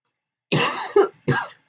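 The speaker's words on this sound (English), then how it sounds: "Seem to have a little bit of a cough tonight." Someone at a card-stamping craft table coughs twice close up, a longer hacking burst followed after a short pause by a shorter one, with silence around them.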